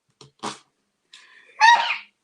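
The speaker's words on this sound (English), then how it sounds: "that was a sneeze, by the way." A single close sneeze, preceded by a couple of quick sharp inhales, in an otherwise quiet room.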